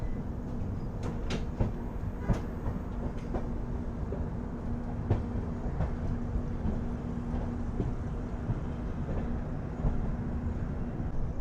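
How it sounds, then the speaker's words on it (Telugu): Superfast Mail passenger train pulling out of KSR Bengaluru City station, with a steady rolling rumble and irregular wheel clicks and clanks over rail joints, fairly close and alone. "మొత్తానికి మన ట్రైన్ కేఎస్ఆర్ బెంగళూరు సిటీ నుంచి డిపార్ట్ అయిపోయిందండి"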